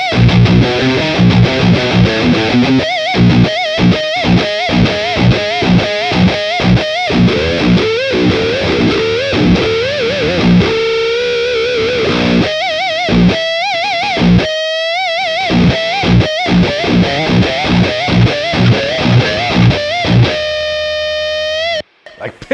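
An electric guitar played through a BOSS Katana amp with heavy distortion chugs out rapid palm-muted rhythmic stabs and squealing pinch harmonics, ending on a sustained ringing note.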